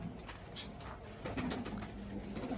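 Pigeons at a pigeon farm giving soft, low, repeated coos close by over a constant background murmur of the flock.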